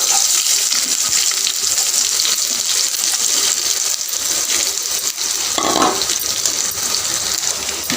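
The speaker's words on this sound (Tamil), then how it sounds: "இப்போ கடுகு பார்த்திங்கன்னா நல்லா பொரியுது" Mustard seeds splutter in hot oil for a cassava and lentil adai batter, a loud, dense, continuous crackling hiss with scattered sharper pops throughout.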